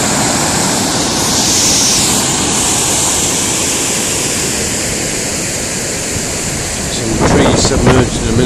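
River Taff in flood at Pontcanna, Cardiff, a loud, steady roar of fast rushing water with wind buffeting the microphone throughout, and a brief burst of louder splashing near the end.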